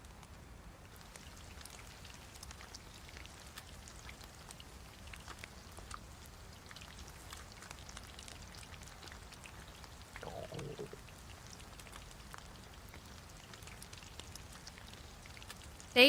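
Rain falls steadily in the DayZ video game, a soft continuous patter of drops at low level with a brief louder rustle midway.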